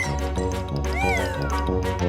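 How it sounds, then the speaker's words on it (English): A cat meows once in a drawn-out, rising and falling call over bright, steady background music, fairly loud and close. "It's a cat."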